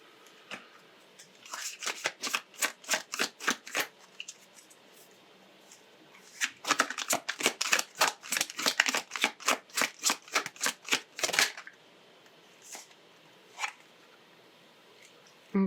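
A deck of oracle cards is shuffled by hand in two bursts of rapid, crisp riffling flicks, close and fairly soft, separated by a brief pause and trailing off into a few stray taps.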